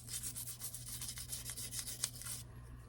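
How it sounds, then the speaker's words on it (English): A small nylon brush scrubs the slide of a Walther PPK/S .22 LR pistol in quick, faint back-and-forth strokes close up, stopping just before the end over a low steady hum. "So just to slide, same thing. I'm just going to use this little nylon brush."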